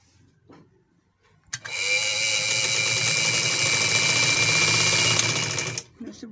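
Close, continuous whirring of a sewing machine stitching the side seams of an umbrella frock, running steadily for about four seconds after a quiet start and then stopping.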